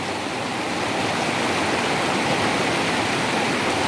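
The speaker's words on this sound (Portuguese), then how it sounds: "bastante água ainda descendo para o açude Castanhão" Rio Salgado in Icó, Ceará, running high toward the Castanhão reservoir, its water still covering some rocks; a steady, full rushing roar of flowing river fills the whole stretch without pause.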